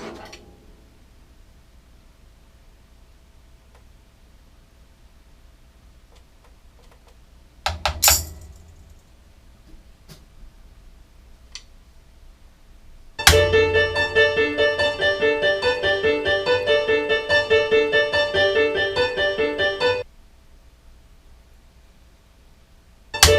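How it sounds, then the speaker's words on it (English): A Lorelei electronic keyboard plays a sustained pad part: after some sparse clicks and a short burst, a dense, bright chord holds loudly and evenly for about seven seconds, then cuts off, with no talking. "So that's a Lorelei keyboard."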